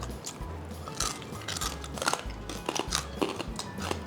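Crunchy Trang-style grilled pork with a crisp underside being bitten and chewed up close, giving repeated crackling crunches in an uneven rhythm throughout, with no talk.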